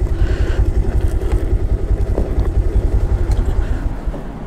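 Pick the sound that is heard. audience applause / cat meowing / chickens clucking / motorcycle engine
motorcycle engine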